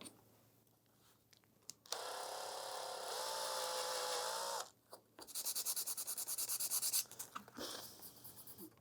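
A small drill bores holes in a handmade sword prop to seat its spikes: first a sustained whine lasting a few seconds, then a run of quick pulsing bursts, all close by.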